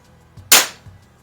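A single sharp air pistol shot from a match pistol, a Baikal IZH-46M or Weihrauch HW70, a crisp close crack with faint mechanical clicks just before and after in a quiet setting.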